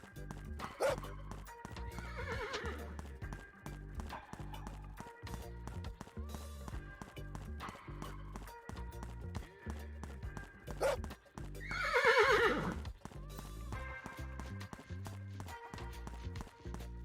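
Horse hooves clatter steadily in the Travesía video game while music plays, and two loud neighs stand out, one brief and one longer and louder partway through.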